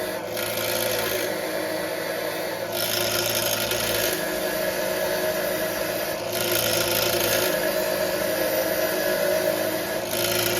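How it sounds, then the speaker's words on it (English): Threads on small-block Chevy 350 cylinder head bolts are scrubbed clean, a steady close rasping and whirring rub that pauses and restarts in several passes, with no talk. "And then clean the threads up."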